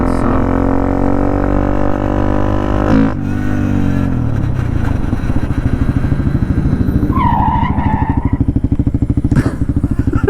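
Close, loud engine drone from a Honda Grom motorcycle carrying a 300cc engine swap as it is ridden, with a brief throttle dip before the pulsing exhaust note steadies and builds again.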